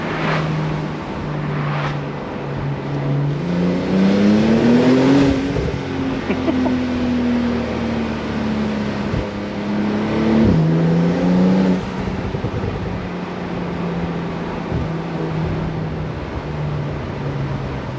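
An 820 hp BRABUS Porsche Turbo S in Sport Plus mode climbs uphill, its engine revving loud and close, rising in pitch through gears with sharp shifts, then settling into a steady drone.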